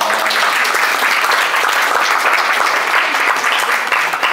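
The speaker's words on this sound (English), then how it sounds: "Okay, a round of applause for all of our speakers." Sustained, full applause from an audience in a university seminar room after robotics presentations, steady and loud throughout with no talking over it.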